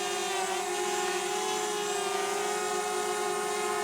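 A DJI Mavic Mini drone with a propeller spinning too fast, a continuous, steady high-pitched buzzing whine that stays close and even throughout with no talk.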